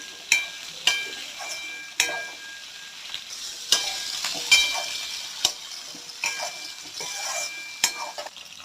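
Garlic, onion, dried berries and drumstick are sautéed in oil for a garlic kuzhambu, sizzling steadily while a metal spoon stirs and clinks sharply against the pan at irregular intervals.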